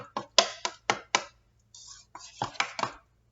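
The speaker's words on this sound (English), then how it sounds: "Gonna give this a good stir." Sharp clicks and taps of a utensil against a bowl as cobbler mixture is stirred, a quick close run of distinct strikes, a short pause, then another brisk burst.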